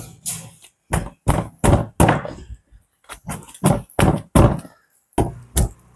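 Parotta dough slapped and beaten onto a hot griddle, a quick series of about a dozen loud, close, hollow thuds in uneven bursts with short gaps, no voices.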